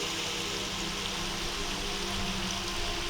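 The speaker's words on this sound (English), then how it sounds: "The water is really loud." Loud, continuous rushing water under a bridge fills the space evenly, a steady broadband roar with no breaks.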